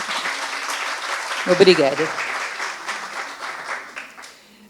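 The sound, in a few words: audience applause for the guest at a live podcast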